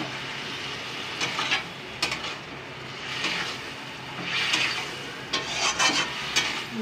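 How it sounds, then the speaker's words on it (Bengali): Mola fish slid into a pan of cooked-down spice paste for a Bengali fish jhal, giving a steady low sizzle with scattered crackling bursts and a few stirring scrapes, moderately close and without talk. "আমি এবার মাছটাকে ছেড়ে দিচ্ছি।"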